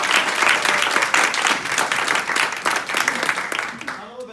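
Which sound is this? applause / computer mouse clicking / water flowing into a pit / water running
applause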